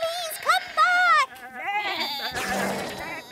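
A cartoon sheep bleats several times in wavering, warbling cries, loud and close, followed by a burst of noisy commotion.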